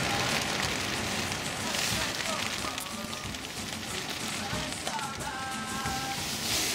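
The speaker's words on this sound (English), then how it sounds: "It's raining and the wind is pretty strong." Rain falls steadily during a cold storm in Abancay, a dense crackling patter mixed with gusty wind noise, heard close and continuous at a low level, with a voice speaking over it.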